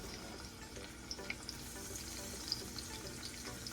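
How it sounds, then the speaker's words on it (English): Quiet, steady frying sizzle from potatoes and onions in a greased pan, with a few small pops and crackles, faint and continuous, no voices. "Okay, and I hear that sizzle."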